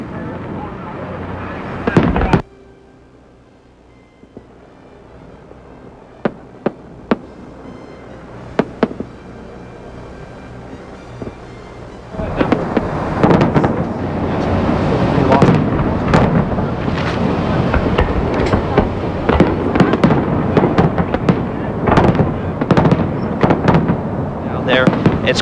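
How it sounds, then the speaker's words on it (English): The 1998 implosion of the Aladdin hotel in Las Vegas opens with a few sharp blasts and scattered pops. Then a long, loud, crackling roar of the collapsing building builds and sustains, with people talking over it. "the building literally fell out from underneath our camera"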